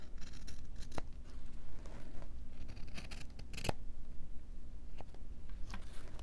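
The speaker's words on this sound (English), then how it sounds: "So I'm going to put that down and cut it." Scissors snip through string several times, close and fairly quiet, with sharp separate cuts among soft rustling of paper and string during envelope crafting.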